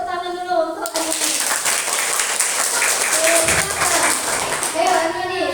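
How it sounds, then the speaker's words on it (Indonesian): A classroom of schoolchildren breaks into sustained applause, dense steady clapping filling the room, with children's voices calling out over it near the start and end. "Sebelum ngambil kita tepuk tangan dulu untuk Anini."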